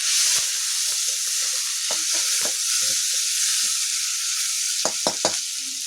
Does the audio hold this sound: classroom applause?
no